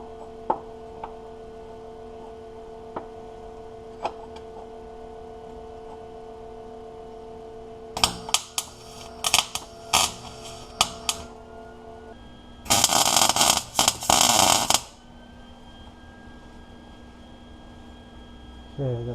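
A transmission mount being welded during an LS V8 swap into an E39 BMW: scattered sharp ticks and clicks, then a harsh crackling burst lasting about two seconds, close by, over a steady background hum.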